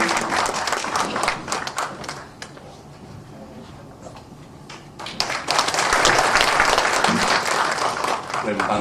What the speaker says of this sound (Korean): 오늘 문을 여신 딕슨 상, 열정적으로 노래해 주신 딕슨 상사에 큰 박수 한 번 더 보내주시면 좋겠습니다.